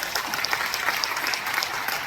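An audience at a Hindi-language talk claps on cue, a brief burst of dense, crisp applause that stays even throughout with no speech over it.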